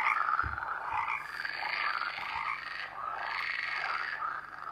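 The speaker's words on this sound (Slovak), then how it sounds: "To sú žaby." Frogs croak in a dense, pulsing chorus with overlapping calls swelling and fading, fairly close and loud with no other sounds.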